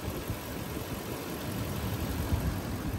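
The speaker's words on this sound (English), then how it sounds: "the engine sounds good" A 2006 Range Rover Sport engine, which has an overheating problem, idles with a steady, low hum and a faint high-pitched whine above it, no voices present.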